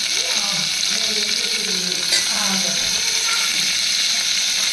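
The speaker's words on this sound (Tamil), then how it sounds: "தக்காளி வதங்கட்டும்" Tomatoes and onions sauté in a pan for sambar rice, producing a loud, continuous hiss and crackle at close range. Faint voices can be heard underneath the sizzle.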